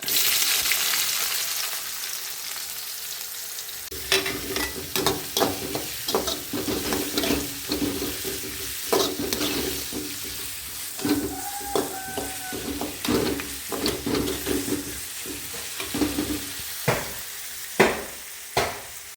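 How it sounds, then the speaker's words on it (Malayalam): Chopped large onion sizzles in about two spoons of hot coconut oil with popped mustard seeds, a loud, steady close frying hiss punctuated by repeated scraping stir strokes of a spoon against the pan. "ഒരു രണ്ട് സ്പൂൺ വെളിച്ചെണ്ണ ഒഴിച്ച് കടുക് പൊട്ടി ഇതിലേക്ക് നമ്മൾ അരിഞ്ഞ് വെച്ചിട്ടുള്ള വലിയ ഉള്ളി"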